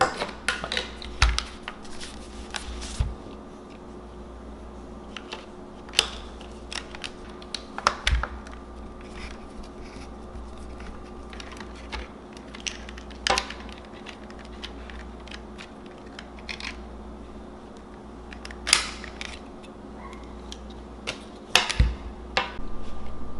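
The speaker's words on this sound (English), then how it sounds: "Okay, so now I'm gonna go ahead and start by removing this bezel here." Plastic clicks, taps and prying snaps from a steering wheel bezel being worked off a BMW F80 M3, scattered irregularly across a quiet interior with occasional sharper pops; no talking.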